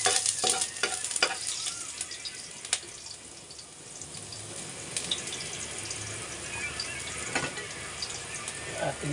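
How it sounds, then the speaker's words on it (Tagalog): Sardines cook in a pan, giving a soft, steady sizzle with clinks of stirring and scraping scattered throughout. The sound is fairly quiet and close, with no voices. "Guys, magluluto po tayo ng sardinas."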